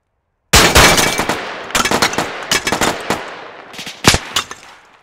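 Close, sharp gunfire in the Arma 3 video game, with several rapid automatic bursts and single cracks spread across a few seconds after a silent start, with no voices.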